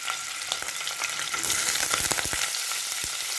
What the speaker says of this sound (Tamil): இப்போ இந்த எண்ணெய் காஞ்சி எடுத்து அதை பன்னீரை பொரிச்சு எடுத்துக்கலாம்.